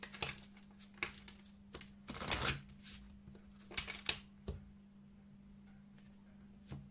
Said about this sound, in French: On va prendre 2 cartes. On va faire une coupe.